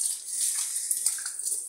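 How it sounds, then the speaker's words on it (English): Water running steadily while hands are washed, a continuous close hiss of flow with small splashy fluctuations and no talk. "you're washing it, you use a lot of water"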